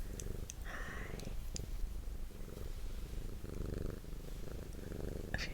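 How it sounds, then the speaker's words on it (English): A pet cat purrs close up with a steady, soft rumbling drone through the whole stretch, broken by a few faint rustles and small clicks. "Featuring some cat purring, I guess."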